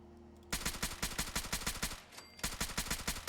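Bullpup Scout Rifle, a 5.56 Keltec M43 prototype with rapid receiver and muzzle booster in Fallout 4, fires loud rapid bursts of sharp, evenly spaced shots that pause briefly before resuming.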